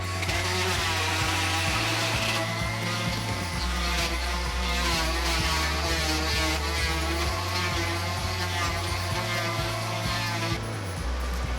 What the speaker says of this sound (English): Now it's time to just sand the top with my orbital sander